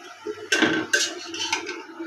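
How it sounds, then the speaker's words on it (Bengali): Leafy greens are stirred in a pan with a utensil, making a few close scraping, clattering strokes in quick succession. "এখন ভালোভাবে শাকটা মিশিয়ে নেব।"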